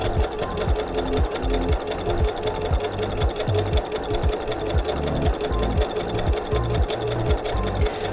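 A sewing machine runs a quarter-inch seam in quick rhythmic bursts, its needle chattering in short runs with brief pauses between them, close and steady without any talking.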